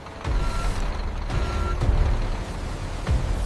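Trucks entering a Bactrian camel milk factory through an open gate, with sharp air-brake hisses and repeated reversing beeps over a steady engine rumble.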